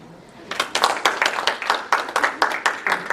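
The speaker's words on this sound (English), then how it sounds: "Was that an applause?" A small audience at a comedy show in a VFW post hall gives scattered, uneven applause, a loose patter of individual claps rising after a quiet start and continuing steadily.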